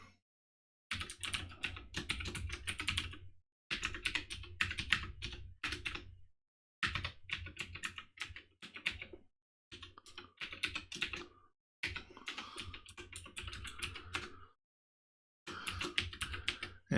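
Someone types a terminal command on a computer keyboard in several bursts of quick, close clicking keystrokes separated by short silent pauses.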